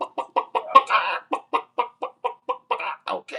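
Chicken clucking in a steady run of short, evenly spaced calls, close and fairly loud, with a longer squawk near the start and no talking over it.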